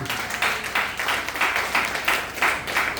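A church congregation claps together in a loud, steady burst of applause, many hands beating in a quick irregular rhythm for a few seconds, with no speech over it.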